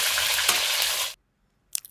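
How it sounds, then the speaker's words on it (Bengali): Small young carp fish sizzle loudly in hot oil for about a second, then go abruptly silent before a brief sizzling burst returns at the end. "এবার মাছগুলো দিয়ে আমি উল্টে পাল্টে একটু বেশি করেই ভেজে নেব"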